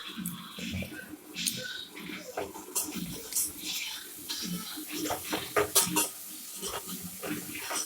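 Ginger garlic paste is stirred into onions in a cooking pot, with repeated clattering scrapes and metallic knocks of a spoon against the pot, close and irregular, mixed with some wet sizzling.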